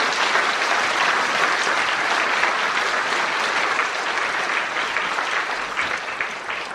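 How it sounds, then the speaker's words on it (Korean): A church congregation applauds during a pastor's installation service in Korea, a dense, sustained wash of many hands clapping at steady loudness that tapers only slightly toward the end, with no voices above it. "여러분 다시 한번 박수 한번 보내주세요."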